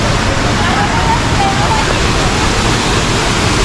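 Water flows steadily at a farm resort swimming pool in Naga City, a loud, unbroken rushing and splashing that fills the whole clip without pause.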